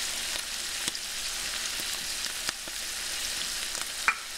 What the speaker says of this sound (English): My chickpeas have been cooking for a couple minutes.